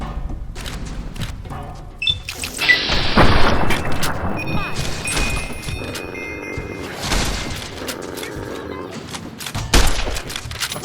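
Gunfire, booms and thuds from combat in the video game Fallout New Vegas, coming as scattered bursts and impacts at varying loudness across the clip, with a voice briefly heard among them.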